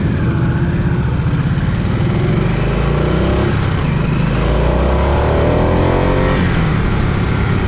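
A 2023 Harley Davidson Nightster Special motorcycle accelerating under throttle, a loud, close engine roar that rises steadily in pitch with constant wind rush and no pause.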